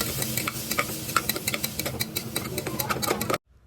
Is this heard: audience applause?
no